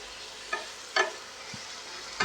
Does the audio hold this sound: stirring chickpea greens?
yes